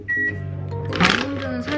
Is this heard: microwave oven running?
yes